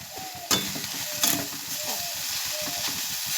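Flattened rice being stirred and fried in a pan for chire pulao, with a steady sizzle and a few sharp scrapes of the spatula against the pan, heard up close with no talking.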